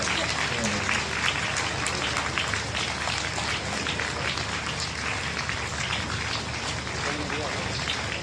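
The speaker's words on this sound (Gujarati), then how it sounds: "તાળીઓ પાડો, તાળીઓ બંધ ન થવી જોઈએ." An audience claps steadily and loudly at a Ram Katha gathering during monsoon season, a dense, continuous patter of many hands, with a voice speaking faintly over it.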